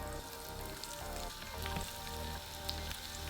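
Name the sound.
onions sizzling in olive oil in frying pan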